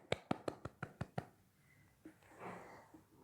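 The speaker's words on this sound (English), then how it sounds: "Clap for yourself." Children clap for themselves in a class: seven quick, sharp claps in an even rhythm, then faint rustling and murmuring.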